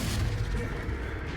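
A Confringo explosive spell fires in the Hogwarts Legacy video game, a dense, sustained low rumbling blast with booming body that holds steady and loud across the short moment.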